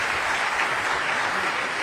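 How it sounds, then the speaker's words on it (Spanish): An audience at an engineering panel on reinforced concrete gives the panelists a steady, even round of applause, dense and continuous with no voices over it. "Yo les pido antes que se levanten un aplauso para nuestros panelistas."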